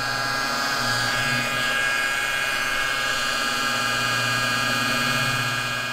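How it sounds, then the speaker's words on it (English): An orbital polisher runs at medium speed across the single-stage paint of a Mazda Miata, giving a loud, steady close-up motor drone with a constant buzzing hum and no talk. "carefully moves along the surface with an orbital at about a medium speed"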